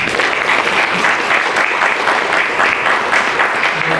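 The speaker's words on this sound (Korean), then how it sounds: "귀한 시간 함께해 주신 여러분들께도 큰 박수를 부탁드립니다." Steady, dense applause from the audience at a Korean youth forum, the Youth 4.0 Forum, sustained and loud with no talk over it.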